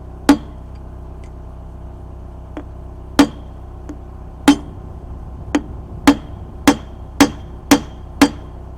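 Sharp metallic hammer strikes ring out one at a time, sparse at first and then falling into a steady, quicker rhythm over a low background hum.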